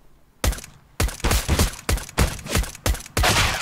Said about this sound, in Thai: โอ้โห XSY เริ่มรัวกระสุน